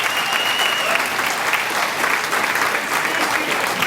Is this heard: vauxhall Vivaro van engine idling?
no